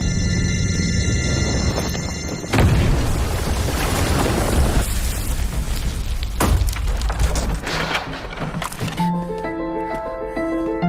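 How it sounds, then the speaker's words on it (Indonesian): A triggered bomb detonates in a loud burst of explosion, followed by a long rumbling roar with crackling debris, fading as tones sound near the end. "Sekaligus berlari setelah menekan tombol pemicu ledakan,"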